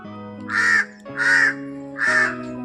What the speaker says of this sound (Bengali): কাক দেখেন না কিভাবে উঠছে